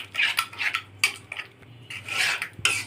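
Raw mango mixture being stirred in a metal pan, with repeated scraping and rasping strokes of a spoon against the pan in an irregular rhythm, close and fairly loud, with no talk.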